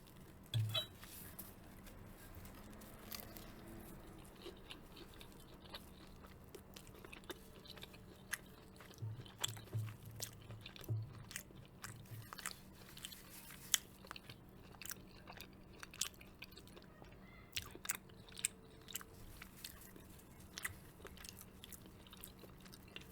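Jamaican beef patties being bitten and chewed up close, with soft crunchy bites and wet mastication sounds recurring through the whole stretch over a quiet background.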